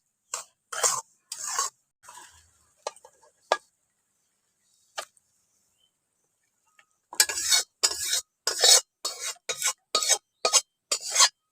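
Semolina and milk powder being stirred in a pan, heard as a series of short scraping strokes, a few sparse ones early and then a quick, regular run of louder scrapes, with no talking.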